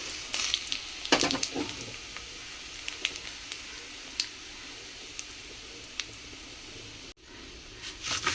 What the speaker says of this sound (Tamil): கொஞ்சம் அந்த எண்ணெயில் கொஞ்சம் நல்லா வதக்கி விட்டுருங்க.